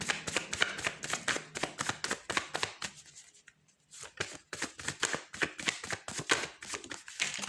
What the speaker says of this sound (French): Et je vais la mélanger avec ce jeu.